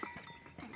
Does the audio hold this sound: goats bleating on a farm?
yes